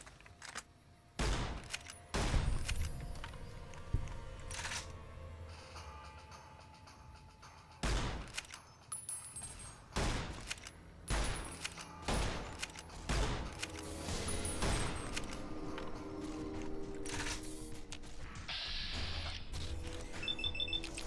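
Gunfire in the video game Fallout New Vegas, a scattered series of sharp single shots and mechanical clicks, some close and loud, spaced irregularly over a low background.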